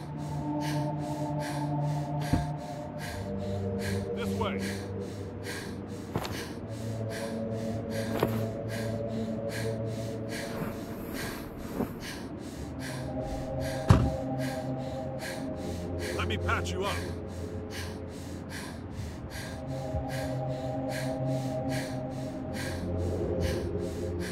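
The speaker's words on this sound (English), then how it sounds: "This breathing." Heavy, ragged breathing in a driving horror game: repeated gasps and snorting breaths at irregular intervals, close and fairly loud over a steady rhythmic ticking and low droning background, with a voice talking at times.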